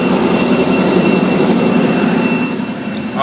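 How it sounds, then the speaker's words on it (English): A train passes near a truck terminal, a loud continuous rumble of wheels on rails heard from nearby that eases slightly toward the end, with no talking over it. "A train would come right when I'm trying to make this video."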